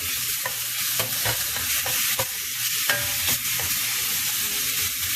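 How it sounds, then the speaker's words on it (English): Ground beef browning in a hot pan, a steady loud sizzle with crackling pops and occasional scraping as the meat is stirred, no voices. "I'm gonna brown that ground beef."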